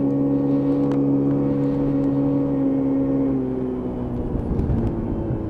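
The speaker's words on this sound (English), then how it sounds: "A nice little bit of torque as you just ease off that throttle, so it has got a fair bit of engine braking as you come in." Small Lexmoto Echo Plus motorcycle on a road at about 30 mph, its engine drone steady and loud, then dropping in pitch and settling as the throttle closes and engine braking slows the bike.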